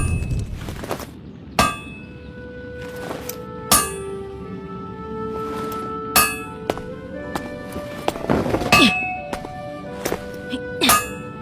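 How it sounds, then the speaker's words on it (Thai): A hammer strikes a lump of iron at a forge, giving sharp metallic clangs about every two seconds that leave long ringing tones, with background music and voices underneath. "ท่านกำลังทุบไล่สิ่งแปลกปลอมในเหล็กก้อนนี้สินะ"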